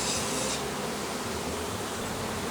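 A dense swarm of honeybees buzzes loudly and continuously after being shaken off hive frames during preparation for honey extraction, a close, unbroken drone with no voices.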